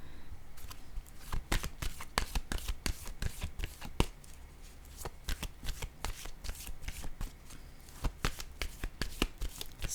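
A deck of tarot cards is shuffled by hand in rapid, papery riffles and flicks that repeat steadily and close up, with brief pauses between bursts. No one speaks.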